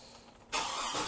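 A car engine cranks and catches at about the midpoint, jumping into a loud, steady idle after a quiet stretch; the start is checked with an Autel MaxiCom MK808S diagnostic scanner.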